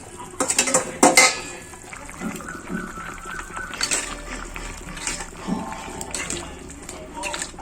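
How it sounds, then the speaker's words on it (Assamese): Fried snakehead fish is added to boiling vegetables in a cooking pot. Several sharp metal clanks and scrapes come close up at the start, then quieter clatter and bubbling follow, with someone talking. "উতলি যোৱাৰ লগে লগে মই ফ্ৰাই কৰি ৰখা মাছখিনি এড কৰি দিম"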